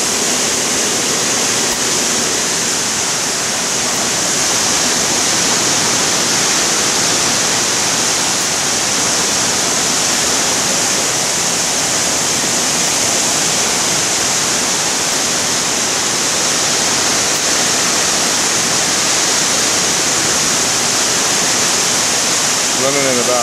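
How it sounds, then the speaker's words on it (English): Water cannon pumps of a shipboard anti-piracy system blast a steady, loud roar of spraying water, a dense continuous rush that fills the whole stretch with no break. "they're going to turn on another pump, so we'll get even more water and pressure"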